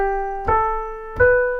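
A few notes from the start of the E natural minor scale sound one after another. Each is a clear, sustained pitched tone with a soft attack, played alone and close.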